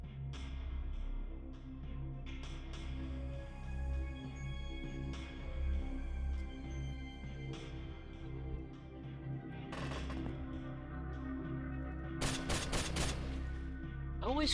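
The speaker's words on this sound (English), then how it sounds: "the Linux SMG is great at getting through walls or cutting through walls whenever I want it to" Linux SMG gunfire in the X-piratez game crackles in a few sharp bursts over a sustained tonal game background, with a dense rapid cluster of shots near the end.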